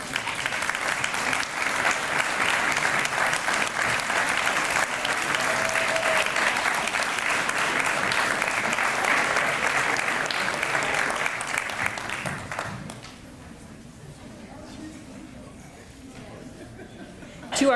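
A large commencement audience at West Liberty University applauds graduates' parents, families and partners, with steady dense clapping for about twelve seconds before it fades into quieter room murmur.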